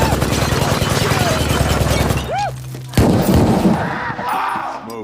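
Gunfire from people practicing shooting in a film, rapid loud bursts of shots dense at first, then a pause and a heavy single blast followed by scattered shots, with voices mixed in.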